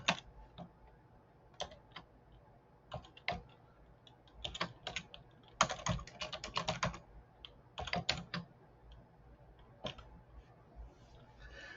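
Fingers type on a computer keyboard while Python is installed, producing irregular bursts of close, crisp key clicks with short pauses between runs of keystrokes.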